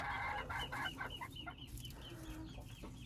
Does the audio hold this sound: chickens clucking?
yes